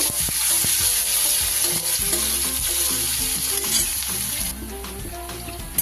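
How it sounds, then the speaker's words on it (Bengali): Chopped onions sizzle loudly and steadily in hot oil, with the occasional scrape and clack of stirring, no voices, while being fried lightly browned for a potato and catla fish head curry. "এবার আমি পেঁয়াজ কুচোটা দিয়ে পেঁয়াজটা একটু হালকা লাল লাল করে নেব"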